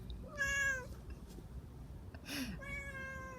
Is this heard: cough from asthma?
no